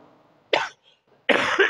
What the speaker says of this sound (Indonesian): agak batuk sedikit